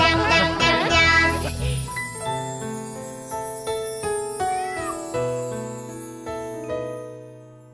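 A sung children's song about an orange cat, with a bright tinkling melody and plucked notes in a steady bouncing rhythm; the meows are sung by a voice imitating a cat rather than made by a real animal.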